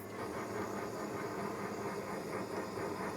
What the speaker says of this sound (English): I'm gonna be using my new toy here, this torch.